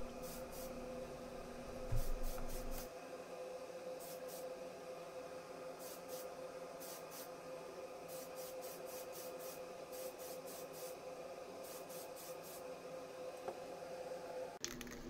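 Tamiya Fine White Primer sprayed from a can onto a Matchbox 1982 Toyota Supra model car body in a paint booth: short hissing bursts in quick clusters over a steady fan drone, close by.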